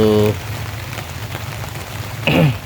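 Steady rain patters on a tarp stretched over an outdoor work camp in the early evening, a continuous close hiss with brief voice sounds at the start and end.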